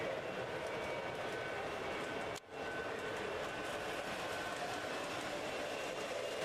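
Model trains run on a large multi-level railroad layout with a helix climbing from near floor to near ceiling, giving a steady, close rumbling roll throughout with one brief dip partway.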